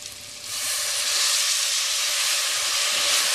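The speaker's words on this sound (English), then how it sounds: "Now, to make it taste even more nice, we add in the red wine." Red wine poured into a pan of chorizo risotto sets off a loud, steady sizzle that bursts in after a brief pause and holds as a continuous hiss of bubbling liquid, close and alone.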